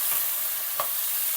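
Small chicken cubes fry in oil, giving a continuous soft sizzle with one brief scrape of a stirring spoon midway, close and moderately quiet.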